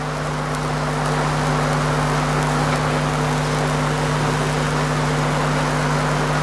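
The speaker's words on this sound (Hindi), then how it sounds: "आप लोग को बहुत ज़्यादा शोर सुनाई दे रहा होगा क्योंकि कानपुर में बहुत ज़्यादा बारिश हो रही" Heavy monsoon rain falls steadily in Kanpur, a dense, continuous hiss under a constant low electrical hum, with no one speaking.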